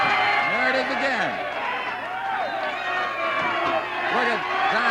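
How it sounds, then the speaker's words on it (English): A crowd of professional wrestling fans cheers and roars steadily throughout a 1976 Detroit Big Time Wrestling match, with a commentator's voice talking over the dense crowd noise. "And the fans are cheering."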